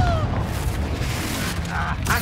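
Confringo fire-blast spell exploding in Hogwarts Legacy, a booming burst over steady, dense game noise with a brief crackle near the end and talk nearby.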